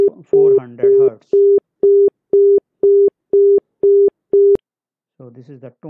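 Indian telephone exchange tone at 400 Hz, cadenced 0.25 seconds on and 0.25 seconds off, sounding as eight to nine clean, steady, evenly spaced beeps alone, with speech just before and after.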